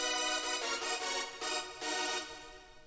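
Thin, bright chords from heavily detuned saw-wave synths, made for a hardstyle lead, sound in a few sustained hits with short dips between them. They are fizzy and high-heavy, moderately loud, and fade at the end with no voice.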